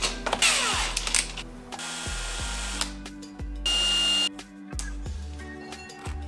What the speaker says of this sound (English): I'm also going to just start by using like a 2 millimeter or 3 millimeter drill, just to make sure I can locate it perfectly